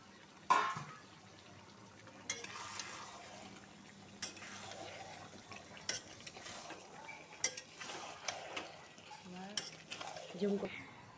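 Mutton with potatoes braising in a pan, heard as a low bubbling sizzle with intermittent spoon scrapes and stirring knocks, fairly quiet and close.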